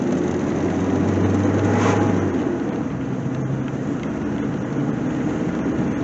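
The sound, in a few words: old car engine running after sitting nearly six years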